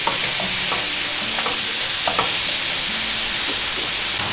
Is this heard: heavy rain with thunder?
no